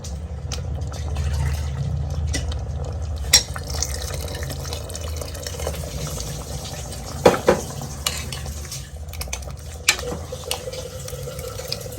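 A pot of masala curry with potatoes boils vigorously in a home kitchen, giving a continuous bubbling, sizzling churn broken by occasional clinks and scrapes of a utensil against the pot.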